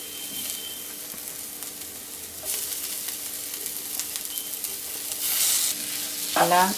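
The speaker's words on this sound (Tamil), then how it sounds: "இப்போ நம்ம மசிச்சு வச்சுருக்கிற உருளைக்கிழங்க இதில் சேர்த்து நல்லா கலந்து விட்டுடலாம்" Mashed potato gets stirred into masala in a hot pan, with a soft continuous sizzle broken by louder scraping bursts of the spatula and a sharp clatter near the end, no speech.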